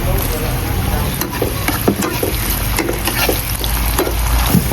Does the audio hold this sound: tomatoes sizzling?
yes